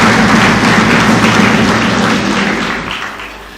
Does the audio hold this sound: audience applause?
yes